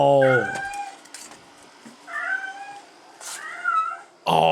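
A cat meows loudly and repeatedly at 3:23 in the morning, several drawn-out, wavering cries separated by short pauses, close and clear in a quiet room.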